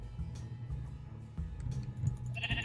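Minecraft sheep bleat a few times in a wavering, quiet tone over a low in-game background hum.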